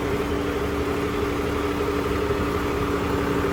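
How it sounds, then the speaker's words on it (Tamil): A modified tractor engine runs steadily in fourth gear, a loud, close, continuous low drone with constant vibration and no breaks. "இப்போ பார்த்தீங்கன்னா டிராக்டர் வந்து 4வது கியரில் போயிட்டுருக்கு"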